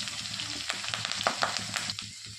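Cumin, garlic and curry leaves sizzling in hot oil in a pan, a continuous close hiss broken by small crackles and a few spatula scrapes, with no voices.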